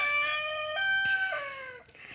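A rooster crows once nearby, a long bright call that rises and then trails downward, heard alone over faint background noise.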